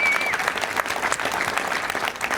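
A church congregation applauding together, dense steady clapping from many hands filling the room for a couple of seconds.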